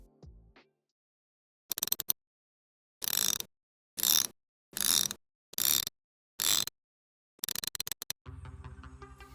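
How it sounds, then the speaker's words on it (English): The steel rotating bezel of a Seiko SPB485 diver watch being turned: bursts of rapid, crisp metallic ratcheting clicks, about six separate runs with short silences between, very close and clear. "But how does this all-new bezel feel and sound?"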